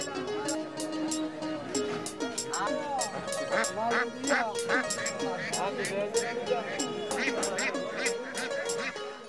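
Domestic ducks quack repeatedly in the noisy Belabo market in Narsingdi, Bangladesh, their calls overlapping with steady human chatter throughout.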